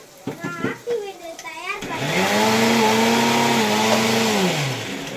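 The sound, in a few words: mixer grinder running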